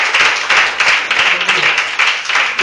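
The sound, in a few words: church congregation applauding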